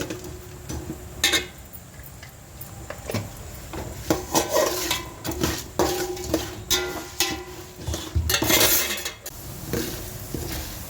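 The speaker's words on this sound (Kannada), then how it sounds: "ಫಸ್ಟಿಗೆ ಮೆಂತ್ಯ, ಕಡಲೆಬೇಳೆ, ಉದ್ದಿನಬೇಳೆ ಚೆನ್ನಾಗಿ ಎಣ್ಣೆಯಲ್ಲಿ ಫ್ರೈ ಮಾಡ್ಕೊಂಡು ಬಿಡಬೇಕು" Fenugreek seeds, chana dal and urad dal frying in oil in a pan, heard as a string of light clinks and taps of a utensil stirring against the metal, close and moderately loud, with no talking.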